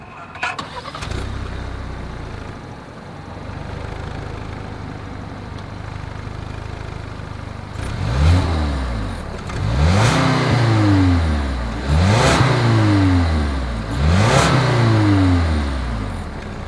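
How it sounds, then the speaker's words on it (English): A 2020 Lincoln Nautilus SUV engine cranks and starts, settles into a low idle, then the exhaust is revved in several deep, throaty bursts that rise and fall. "here is that exhaust clip"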